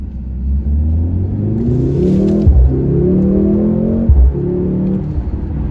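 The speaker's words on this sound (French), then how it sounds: "Les accélérations sont vraiment fulgurantes. Franchement, ça sonne pas comme un V8" A 2023 Mercedes C63 AMG S E Performance accelerating hard, its engine note rising loud and close with two brief dips between gear changes and a steady roar throughout.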